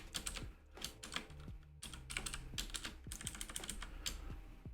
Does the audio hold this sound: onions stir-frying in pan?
no